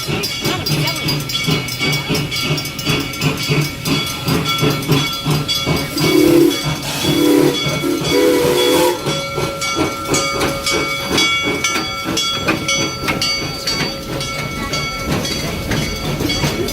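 A Busch Gardens park train rolls along with a steady mechanical chug and hiss of steam, a whistle-like tone sounding briefly midway, and people talking faintly in the background.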